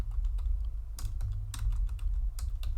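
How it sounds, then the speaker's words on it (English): Typing on a computer keyboard, a run of close, light key taps in uneven bursts over a low background hum. "I'm just going to type in the new name"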